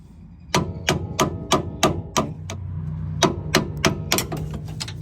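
Sharp hammer taps on a steering shaft of a 2006 Dodge Dakota, about a dozen evenly spaced strikes with a brief pause midway, close and ringing over a low steady hum.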